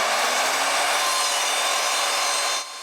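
A new Evolution power saw cuts through a 6x6 wooden beam with a loud, steady, rasping buzz that stops abruptly near the end, heard close up with no talking.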